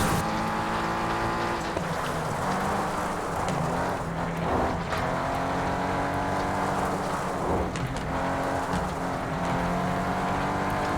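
Race car from the video game Flatout 2 driving through a desert race over debris on the road, a steady loud engine roar with shifting pitch and skidding, continuous throughout with no speech.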